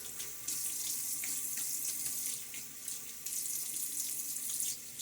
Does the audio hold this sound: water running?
yes